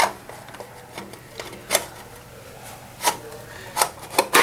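A cover goes back onto a vibratory feeder controller with scattered scraping, rubbing and light plastic-on-metal knocks, a few sharper clacks and taps, close by and fairly quiet.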